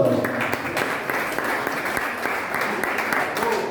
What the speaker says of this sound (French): Donc applaudissez ce monsieur parce que je l'adore.